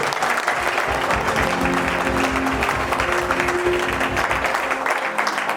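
A church congregation at a Sunday service claps and acclaims, sustained crowd applause mixed with cheering voices, loud and continuous throughout.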